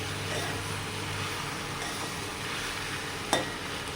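Chicken for a pepper chicken curry fries in a pan with a steady, moderate sizzle, and a single sharp click sounds near the end.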